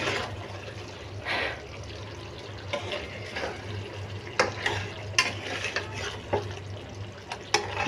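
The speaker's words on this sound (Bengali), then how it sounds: "চিকেনটা আমি নাড়া দিয়ে দিচ্ছি" Chilli chicken is stirred in a pan, with soft scraping and clinks of the spoon over a low simmering sizzle, quiet overall with a few sharper knocks toward the end.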